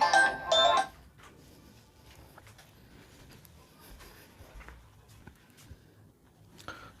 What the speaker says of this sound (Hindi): थोड़ा सा फ़ोन आ गया था